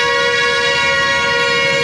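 A heavy horn on a Toyota Hilux monster pickup truck blares in one long, continuous, loud tone, rich and steady from start to finish with no break.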